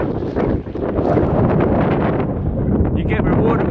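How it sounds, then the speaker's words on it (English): Strong wind buffets a microphone outdoors on a hiking trail at sunset, a constant loud rumbling roar with gusty surges and no pauses. "hope you can hear me with the wind"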